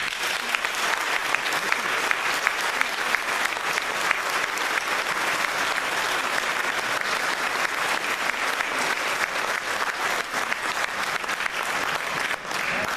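A crowd at a town's 2017 New Year's address in Coutras, France, breaks into sustained applause, a thick, even roar of many hands clapping that continues steadily for the full length.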